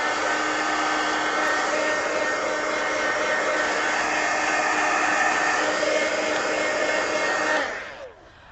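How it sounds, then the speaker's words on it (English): Heat gun blowing over watercolor paint on a coloring page, a loud steady airy whir held for about seven and a half seconds before it cuts off and winds down. "I'm going to hit it with a heat gun"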